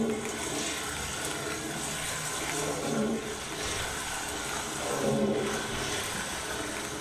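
Toilet water flows and gurgles loudly and steadily in a horror video game, a continuous rushing flush that swells slightly in places, with no talk over it.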